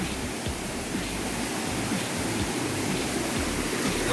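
A forest stream in Nakhon Nayok, on a trail to a waterfall, gives a steady, close rush of flowing water with no pauses and no voices.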